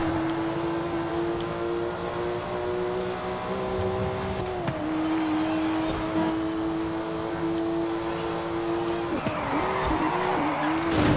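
A race car at full speed in Forza Horizon 5, a loud sustained engine drone holding a steady pitch, with brief dips and shifts as gears change and tires scrub near the end.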